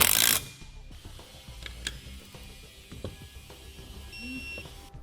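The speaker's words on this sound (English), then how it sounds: "We'll then tighten those down and torque them to the specifications found in your instructions." A ratchet tightens bolts on an Air Lift LoadLifter 5000 air spring bag on a 2006 Winnebago, with faint, scattered mechanical clicks and a brief high beep near the end.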